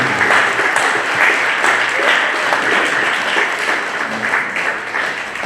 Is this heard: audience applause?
yes